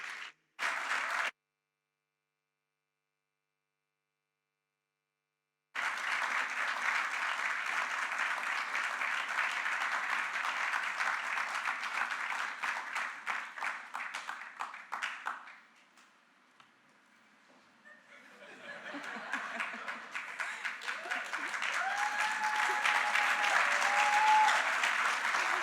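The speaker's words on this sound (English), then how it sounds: "Please, let's give another round of applause as she comes to talk to us about the power of" Sustained audience applause at an engineering innovation awards final, a dense wash of clapping that breaks off, dips briefly and then returns loud and steady.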